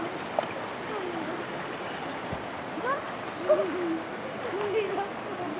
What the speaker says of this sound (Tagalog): Ito po ay Dumaka River.